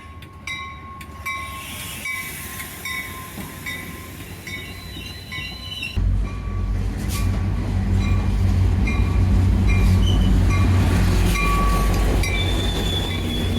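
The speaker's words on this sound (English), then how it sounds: "lots of trains coming in and out" A train rolls into a station with rising rumble and clatter, wheels squealing in high-pitched tones as it draws near and grows louder.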